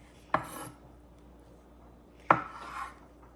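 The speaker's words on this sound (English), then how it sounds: "and then chop like that. There's 1 egg." A boiled egg being chopped with a knife, two sharp separate chops against a board about two seconds apart, each followed by a brief scrape, close and alone in a quiet room.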